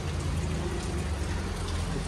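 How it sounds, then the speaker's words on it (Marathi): Steady rain falling outside, a continuous dense hiss with a low rumbling undertone, even and unbroken throughout. "बाहेर पाऊस येतोय"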